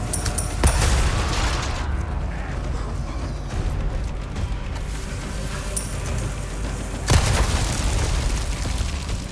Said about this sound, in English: if one of them is holding like a dynamite, I can shoot at it out of their thing